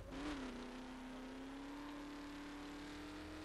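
A 1969 Camaro engine in The Crew video game revs up sharply, then settles into a sustained steady drone, heard alone.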